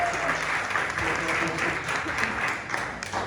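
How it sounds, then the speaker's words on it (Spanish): An audience gives a steady round of applause for children at a Mother's Day church gathering, with dense, even clapping that fills the whole stretch without pause. "deseo un fuerte aplauso para estos niños fuertes y valientes"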